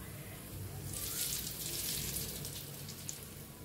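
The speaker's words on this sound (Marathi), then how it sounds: "फोडणी ओतूया ह्याच्यावर" Hot oil tempered with spices is poured over cut onions for a quick onion pickle, giving a bright sizzling crackle that swells after a quiet start, holds for a couple of seconds, then fades.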